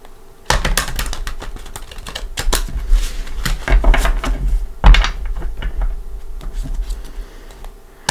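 Tarot cards being shuffled by hand, a busy run of crisp riffling and tapping that starts abruptly and continues steadily up close, with sharper card snaps scattered through.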